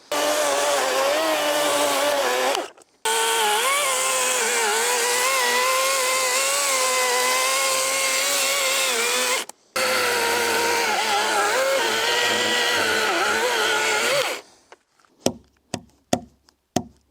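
A battery chainsaw notches a log in long, loud, steady whining runs with two short breaks, followed by a few sharp knocks.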